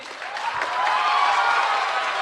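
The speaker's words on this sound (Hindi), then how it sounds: "हालांकि तालियां तो कम बजी हैं" An audience at a talk gives a brief, diffuse round of applause, a steady wash of clapping that swells slightly and holds for a couple of seconds.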